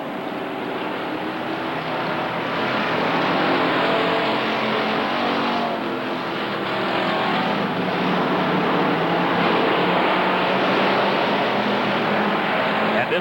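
Race cars speeding around Rockford Speedway, a dense continuous engine roar from a pack of cars that stays loud throughout, with slight swells as they pass.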